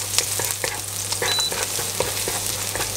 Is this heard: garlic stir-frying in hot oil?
yes